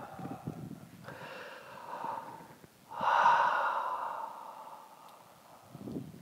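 Slow, deep breaths during a Lomi Lomi bone-washing massage: two long, audible exhales, the second louder and drawn out with a slightly wheezy edge, close up, with faint rustling between them.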